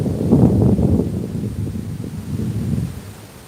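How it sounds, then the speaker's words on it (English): Strong wind gusts through a forest, a steady, loud low roar with rustling that swells and eases, with no voices. "And the wind is very high today."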